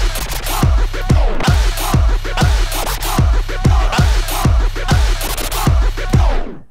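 Turntable beat juggle played alone without extra drumming: a steady looping beat of punchy low kicks and bright hits repeating about every half second, loud and close, with no talking.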